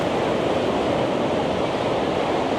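Steady, loud rushing roar of a river and waterfall at the Waitangi Treaty Grounds, a continuous broadband wash of churning water close by with no break.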